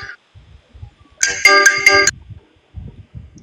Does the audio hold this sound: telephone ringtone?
yes